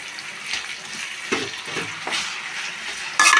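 Onions and tomato sautéing in a pan for chicken curry, with a steady soft sizzle and occasional stirring scrapes, plus a louder clatter near the end.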